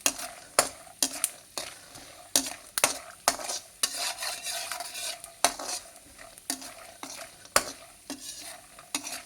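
Peanuts fry in a little oil for a boondi mixture, stirred steadily: close, crackling sizzle punctuated by regular sharp scrapes and clinks of the spoon against the pan, with no voices.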